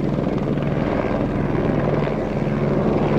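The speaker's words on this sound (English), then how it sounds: "Okay, here comes the helicopter." A helicopter drones steadily overhead, its rotor thumping in a continuous loud wash with a low pulsing beat throughout.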